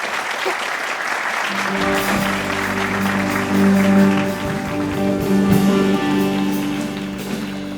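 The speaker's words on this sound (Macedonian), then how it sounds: "Аплауз за Драган Вучич, Дедо Мраз." A studio audience claps at a televised Christmas special. The applause is dense, sustained and close, with a steady tone ringing underneath throughout.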